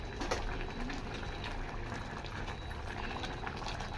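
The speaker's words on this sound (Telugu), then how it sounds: "ఇగో పాలు అయితే ఇక్కడ మసులుతున్నాయి" Milk simmering and bubbling in a pot for semiya payasam, a steady close bubbling hiss with no talk.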